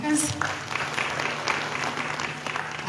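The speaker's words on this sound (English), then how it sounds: "Please another round of applause for the speakers." A room of participants at a government ministry's multi-stakeholder consultation gives a sustained round of applause, steady and fairly loud throughout, with a brief higher sound at the start.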